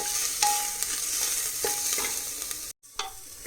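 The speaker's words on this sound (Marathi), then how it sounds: "तर कांदा भाजत आलेला आहे आता." Chopped onion frying and sizzling in a pan for a Maharashtrian spiced rice dish, a steady close hiss with occasional stirring scrapes and a brief gap near the end.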